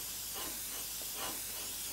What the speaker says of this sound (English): So all we're going to do is just mist coat on.